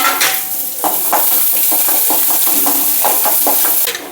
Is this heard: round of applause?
no